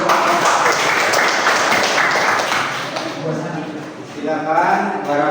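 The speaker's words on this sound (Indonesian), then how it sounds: "Beri tepuk tangan." A classroom group bursts into brief, dense applause during a discussion, loud and close at first. The clapping fades after a few seconds and a voice talks.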